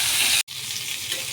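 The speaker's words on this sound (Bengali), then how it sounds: "লবণ দিয়ে এবার ভালো করে পটলটাকে নাড়িয়ে ভাজা ভাজা করে ফেলব" Pointed gourd pieces frying in oil with salt in a kadai, being stirred, give a continuous close sizzle, briefly broken by a split-second cut before resuming.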